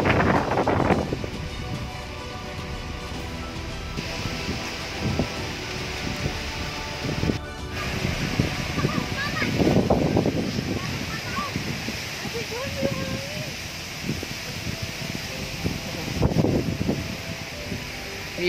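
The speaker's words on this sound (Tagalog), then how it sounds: "Ikot na rin po yung hangin dito." Strong wind blows outdoors as a typhoon begins, rushing and buffeting steadily with gusty swells. A voice talks over the wind at intervals.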